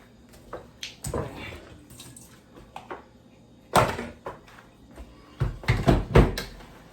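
Peppers are washed and stirred in a kitchen sink while preparing Nigerian ewa agoyin sauce: irregular sloshing and splashing water with clunks of a bowl against the basin, near and alone.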